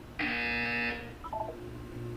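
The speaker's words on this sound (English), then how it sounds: "When you hear the buzzer, look down at the floor." Harsh electronic buzzer from the video game Portal 2, one steady tone lasting under a second, followed by a short burst of fainter beeping blips and then quiet room tone.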